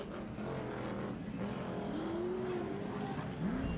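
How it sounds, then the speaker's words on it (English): Ford-powered Pro Lite off-road race truck on a short-course track at a fairgrounds, its engine droning and rising in pitch as it passes at a moderate distance, fairly steady roar over crowd-like background noise. "Hear that Ford horsepower in that thing."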